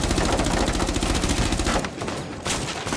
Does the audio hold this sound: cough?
no